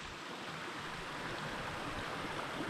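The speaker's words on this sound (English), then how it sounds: "the water running through the grass" Water of a small glen stream runs steadily through grass among icicles in a Scottish winter landscape, a continuous close, broadband rushing with no voices.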